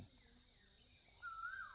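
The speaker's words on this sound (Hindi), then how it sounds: "ये कोयल की आवाज़ सुनिए।" An Asian koel calling in a garden, a single faint distant call rising near the end over quiet background hiss.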